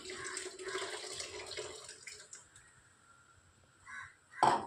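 Tamarind water pours steadily into a pan for a couple of seconds, splashing and trickling, then tapers off, followed by a short clatter near the end.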